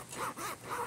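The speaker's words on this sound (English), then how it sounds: "the zipper is very, very nice" Close rasping strokes of a zipper run along a waterproof duffel bag, two or three quick pulls in under a second, with faint outdoor background.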